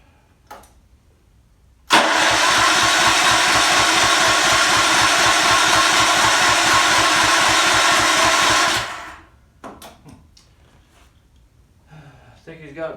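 A Hammerhead go kart's small gas engine, choked and flooding with a surging fault, is pulled and starts, running loud and steady for about seven seconds before cutting out; brief speech follows.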